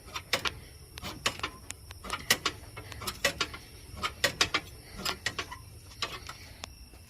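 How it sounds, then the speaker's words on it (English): Hand crank turning to raise the spare tire on a Ford E250 van, heard as a series of sharp, irregular metallic clicks and ratchet ticks close by over a low background rumble. "Take your crank if you're not going to put your flat back underneath, and crank it back up, going clockwise"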